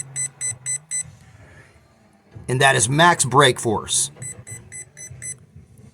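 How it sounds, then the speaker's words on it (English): A Losi 1970 Chevelle 1/16 no-prep drag car's ESC gives short, evenly spaced high beeps during programming, in groups before and after a stretch where someone talks close over the device. "That's one beep for the very first parameter"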